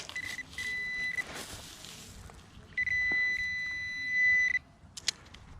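Steady electronic tones from a metal detector sweeping for finds, a short beep near the start and a longer sustained tone later, with a signal jumping around values 76 to 80, plus scattered handling clicks; no talking.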